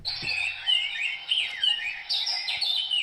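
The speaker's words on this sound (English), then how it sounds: "Bit of bird song for you." Bright, chirping bird song trills in short repeated phrases, clear and close, with no voices.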